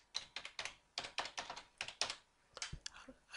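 Fingers tap out entries on the keypad of a Brüel & Kjær Type 7816 acoustic determinator in a quick, uneven run of soft, close clicks with no voices.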